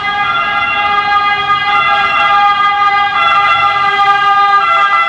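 Loud, close ambulance siren wailing continuously with a steady multi-tone blare, traffic faintly underneath.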